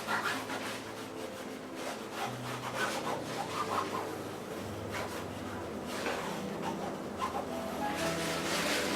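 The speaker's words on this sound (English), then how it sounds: "Burnish." Steady rubbing strokes burnish wet gummed tape onto a solid board artwork mount during conservation framing, a continuous close scraping friction with no talk.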